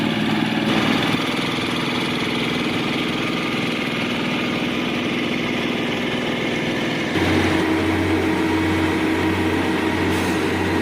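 Truck engines idling on a rainy road, a steady low droning rumble with a faint hiss, changing tone partway through as a different engine takes over, no talk.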